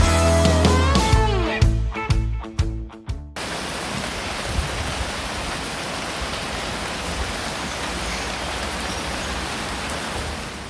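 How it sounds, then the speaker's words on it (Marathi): Steady dense hiss of rain falling, continuous and even, following a few seconds of music at the start. "पाऊस अजून वाढतोय का नाही त्याची वाट बघत होते"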